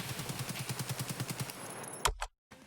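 Rapid automatic gunfire in Escape From Tarkov, a fast regular burst of about fifteen shots, then one louder sharp shot and a brief silence before faint ambience returns.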